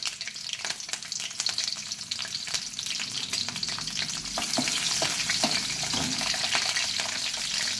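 Green chillies sizzle and crackle steadily in hot oil, with occasional stirring scrapes, close and continuous throughout with no talking.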